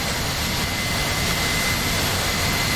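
A military jet's engine in the DCS flight simulator roars as a steady, loud, unbroken whine and rumble with no voices over it.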